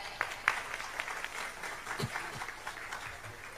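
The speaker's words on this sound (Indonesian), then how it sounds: "Tepuk tangan." Applause from an audience at an Indonesian religious gathering honoring a new kiai, a soft, fairly faint patter of clapping with a couple of sharper claps early on, heard alone.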